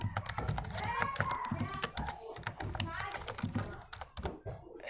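Someone types a php artisan command into a terminal on a computer keyboard, producing quick, close clicking keystrokes in irregular bursts while a person talks over them.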